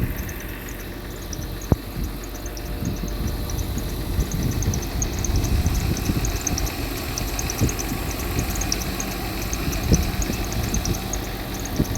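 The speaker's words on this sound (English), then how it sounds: "It's idling at what, 900 rpm." A Mercedes 300SE engine with an M103 engine idling steadily up close at about 900 rpm, a smooth low rumble with a faint ticking rhythm and a couple of brief clicks.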